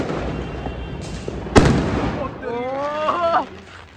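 A single-shot firecracker set off by hand outdoors during Diwali gives one sharp, loud bang, followed by voices shouting and talking nearby.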